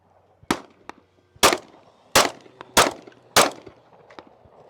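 Glock 19 pistol fired outdoors, five sharp, loud shots at uneven spacing, each with a short echo tail, and a few fainter cracks between them; no talking.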